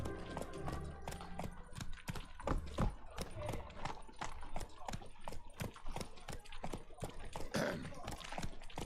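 Roach the horse galloping in The Witcher 3, a rapid, steady clip-clop of hooves on the ground close by, driving rhythmically throughout with voices talking over it.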